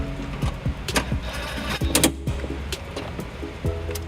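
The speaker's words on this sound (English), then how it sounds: "now we'll take our screws, our cargo anchors, back 10mm socket" A power tool with a 10mm socket backs out cargo anchor screws in a 2006 Toyota RAV4. It makes repeated short, whirring bursts that rise and fall in pitch, close and fairly loud.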